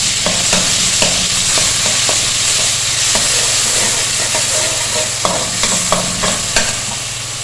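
Ginger-garlic paste with cumin seeds frying in hot oil for kadhi pakora, a steady close sizzle and hiss with scattered stirring clicks and scrapes throughout, no voices.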